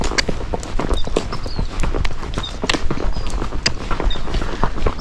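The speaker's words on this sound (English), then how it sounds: "So when Trace is flat walking" Steady clip-clop of a Missouri Fox Trotter's hooves flat walking at an even pace around a barn, close by and fairly loud, with no talking.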